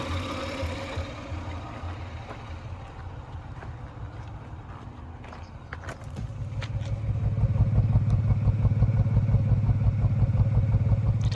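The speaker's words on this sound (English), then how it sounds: "Some of that grinding is the alternator." A 1999 Lexus ES300 engine idles close by with a rough, grinding drone from worn alternator bearings, a steady mechanical rumble that grows louder and fuller partway through.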